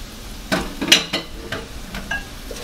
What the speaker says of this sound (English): I'm going to go ahead and add in my ground beef and break it up with my spoon.